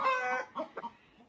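A rooster gives one short clucking call followed by two quick softer clucks, close and alone, with quiet gaps between.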